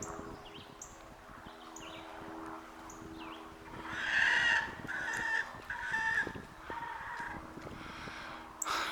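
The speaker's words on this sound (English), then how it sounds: "the chickens are gonna go nuts on the watermelon" Homestead chickens cluck and call in a busy, close chorus over watermelon, with a louder burst of squawking midway, over low background noise and no talk.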